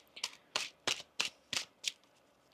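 A deck of tarot cards is shuffled in five quick, crisp riffling bursts, evenly spaced about a third of a second apart, close and fairly quiet with no talking.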